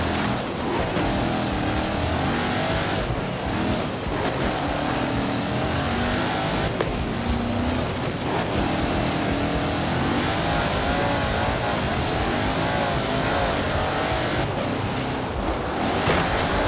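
Land Rover engine in Forza Horizon 4, revving and accelerating continuously at close range with rising and falling pitch and occasional tire noise, no voices over it.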